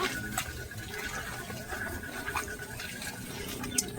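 Close up, hands work sliced onions and turmeric together for piyaji, making a continuous soft squelching and rustling with occasional wet clicks.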